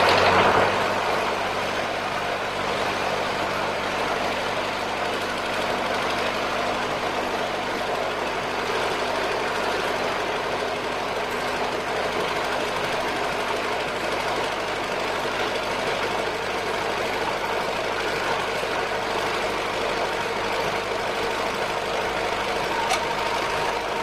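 A tractor engine idles steadily and loudly, with a rough, knocking diesel chug, while a three-point implement is lifted and moved around; there are no voices, only the continuous drone.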